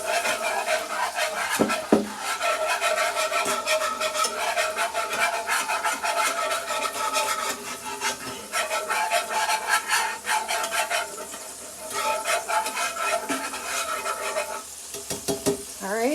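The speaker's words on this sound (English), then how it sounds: "So just take your whisk and scrape up all that goodness off the bottom." A whisk scrapes browned bits off the bottom of a pan, making a steady, close rasping and stirring sound over a soft sizzle that carries on throughout.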